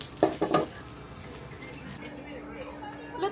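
Fried rice (chahan) is stirred in a pan, with a few sharp scraping clatters of the utensil at the start, then a faint, steady sizzle beneath a person talking.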